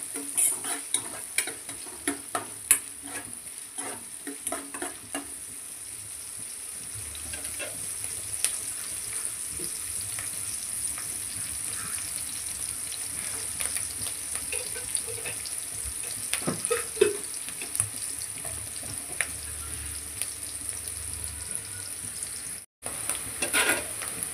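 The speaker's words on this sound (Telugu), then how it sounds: "కొద్దిగా సాల్ట్ వేసి కొంచెం సేపు ఫ్రై చేసుకున్నాం" Blood fry with salt sizzles in a pan, a continuous close hiss broken by frequent sharp scrapes and taps of stirring, holding at a steady level before a brief drop near the end.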